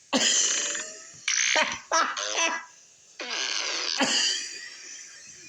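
A horse farts in a long, loud run of broken blasts, several bursts of rasping, sputtering noise separated by brief gaps, close and with no talking over them.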